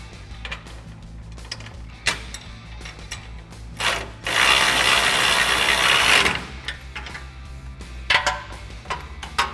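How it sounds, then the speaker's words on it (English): A ratchet with an 18mm socket clicks steadily while tightening bolts on an aftermarket off-road front bumper of a 2021-2022 Ford F-150, close and clear, with a longer burst of fast ratcheting in the middle. "So now we can tighten our bolts down with an 18mm socket and a 19mm wrench."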